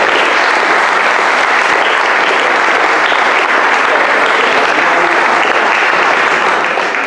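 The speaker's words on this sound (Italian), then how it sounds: "l'applauso un pochino più caloroso lo facciamo al vincitore con la poesia Vento di Ponente, Gianalbo Ferro." Warm applause at a literary prize ceremony in Verona for the winning poem, a loud, continuous mass of clapping from a full audience that stays even throughout.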